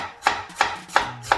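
A knife chops carrot and onion on a board for Korean chive pancake, four evenly spaced crisp strikes at a steady rhythm, close and clear with no voices.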